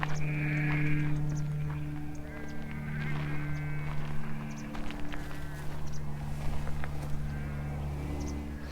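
A large flock of sheep bleats continuously in the background outdoors, many overlapping calls of varying pitch, moderately distant, with a steady low drone beneath and no talking.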